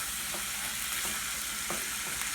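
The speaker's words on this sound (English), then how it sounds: "we're going to go ahead and saute our shrimp" Shrimp sautéing in a pan, a dense, even sizzle heard up close with a few faint stirring scrapes, steady for the whole moment.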